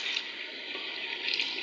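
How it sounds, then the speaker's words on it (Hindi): Water poured into a hot pan of frying meat and onions, giving a steady hissing, splashing rush that holds for the whole moment, loud and close with no voices. "थोड़ा सा मैंने पानी डाल दिया है ताकि प्याज अंदर हो जाए मेल्ट"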